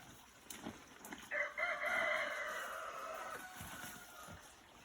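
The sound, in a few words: cockerel crowing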